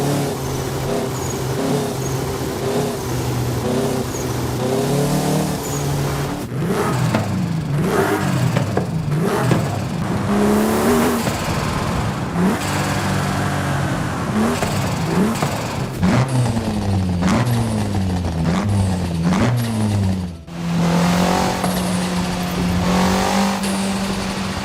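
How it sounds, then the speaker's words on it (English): A turbocharged car in Forza Horizon 5 revs repeatedly through the gears, engine pitch climbing and dropping in quick sweeps with sharp shift breaks, loud and close with no talk. "A turbo on a car that never had one can create a really unique sound that stands out."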